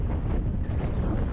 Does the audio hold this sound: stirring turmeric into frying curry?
no